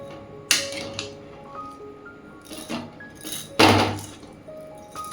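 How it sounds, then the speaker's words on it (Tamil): Rice biryani being stirred and turned in a pot, heard as scattered metallic clinks and scrapes of a spoon against the vessel, with two louder knocks amid quieter scraping. "திருப்பி திருப்பி கிண்டி விடுங்க"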